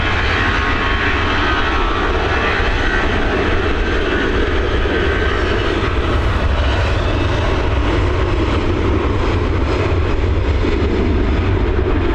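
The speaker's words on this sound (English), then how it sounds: "Here we go, EI470 heading over to Split. It's an Airbus A320 operated by Aer Lingus." An Aer Lingus Airbus A320 jet departing Dublin Airport on runway 28L, a loud, continuous engine roar that stays powerful and steady throughout.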